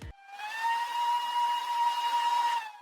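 A steam locomotive whistle with a tender in a Roblox cargo train game gives one sustained, thin, steady blast of about two and a half seconds, sounding alone against silence before and after.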